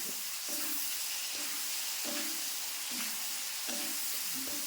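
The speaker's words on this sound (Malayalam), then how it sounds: "എന്നിട്ട് ഇതൊന്ന് കൂട്ടി ഇളക്കാം എല്ലാത്തിലും കൂടി പുളി പുളി പിടിക്കാൻ വേണ്ടി" Ripe chili fry being stirred in a pan after tamarind is added, with a dense continuous hiss of frying and regular scraping strokes of a spoon about every second, no talking.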